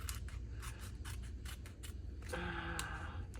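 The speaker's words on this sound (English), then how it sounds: "it's a little hard to cut the sticker paper" Scissors cutting sticker paper for a planner, a steady series of quick close snips followed by a brief squeaky rub, moderately quiet with no voices.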